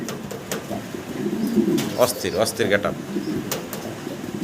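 Fancy pigeons, including German shields in breeding mood, giving low throaty coos nearby, partly under a voice talking over them.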